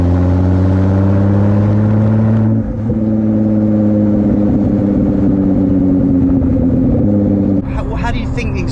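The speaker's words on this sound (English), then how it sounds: "How do you think the exhaust comes across, and how's it benefiting?" A Ford GT's exhaust rumbles steadily at low speed through a residential area, a strong low drone with harmonic bands that shifts pitch briefly near three seconds and changes near the end, heard close from rear-mounted mics.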